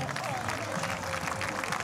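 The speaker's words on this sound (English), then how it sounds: "A round of applause" Crowd applause ripples through the spectators at a men's individual recurve archery match, a steady dense patter of many hands at moderate distance, fairly soft under a broadcast commentator's voice.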